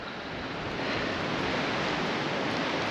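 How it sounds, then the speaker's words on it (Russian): Wind driving snow through a blizzard in freezing Crimean frost, a steady loud rushing roar that fills the whole moment without any break or voices. "Ветер дует, поднимает этот снег."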